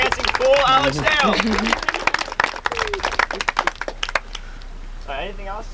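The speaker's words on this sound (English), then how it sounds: "Give a round of applause for our dancing fool" Audience applause breaks out at a 1998 fife and drum demonstration at Fort George, dense clapping loud at first, thinning out, with voices heard over it.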